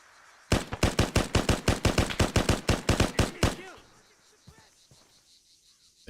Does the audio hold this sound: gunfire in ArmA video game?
yes